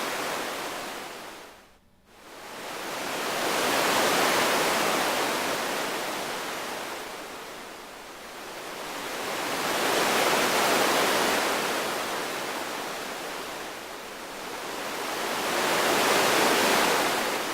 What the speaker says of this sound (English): Pink noise is very sea-like or coastline.